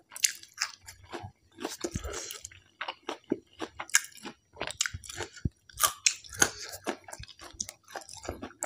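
Close-up chewing of Isan sausage dipped in plum sauce: steady, wet, squishy bites and crunchy chews in a continuous rhythm, with no speech.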